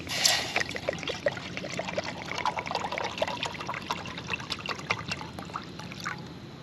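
Creek water trickles and pours steadily into a metal canteen cup on an Alabama creek bank, a continuous close splashing dribble with no talk.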